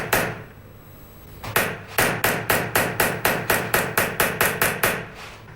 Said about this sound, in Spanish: Trabajando la cara interna con una punta roma y un martillo, se sacan los relieves de la pieza.